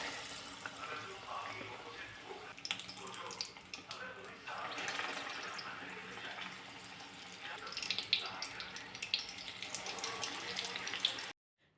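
Potato vadas coated in besan batter fry in hot oil with a loud, constant bubbling sizzle that runs close up for the whole stretch and then stops abruptly.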